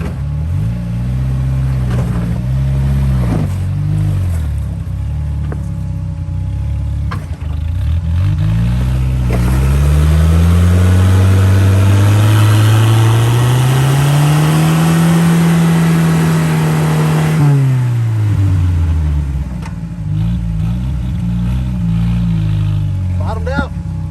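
An off-road vehicle's engine revs hard while climbing a rocky spot on the Wheeler Lake Trail. It is loud and close, its pitch sweeping up, holding, then falling over about twenty seconds, with rougher engine rumble before and after.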